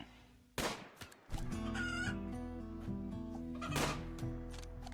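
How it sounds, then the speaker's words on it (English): Rooster clucking in the video game RimWorld, a run of close, loud fowl clucks and squawks that ends in a sharp final cry, over a steady game background. "Looks like he might kill one of our roosters."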